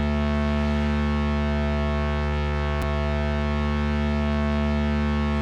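A steady, droning analog-style synth bass tone with heavy low bass and stacked harmonics, a thin white-noise hiss layered on top, holding unchanged throughout with one brief click midway.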